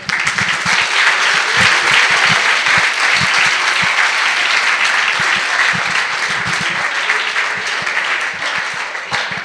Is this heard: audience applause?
yes